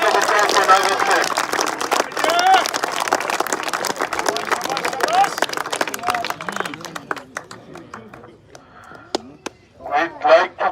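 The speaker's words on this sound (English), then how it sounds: "A round of applause for Nagar Seth." A round of applause at a league opening ceremony, with a loud crowd clapping that thins out and fades into scattered claps and quieter voices near the end.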